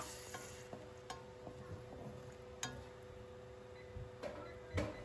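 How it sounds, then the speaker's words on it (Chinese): Onion and garlic are stir-fried in a wok while making pan-fried tofu, with a soft, continuous sizzle broken by repeated spatula scrapes and taps, quiet and close. "洋葱炒香断生以后"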